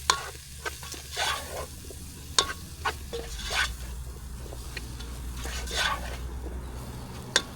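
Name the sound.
curry ingredients frying on a Trangia camping stove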